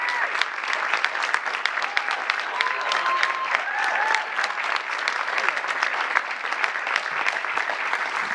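A crowd of girls claps and applauds, dense rapid hand claps running steadily and evenly throughout, close and loud, with faint voices underneath.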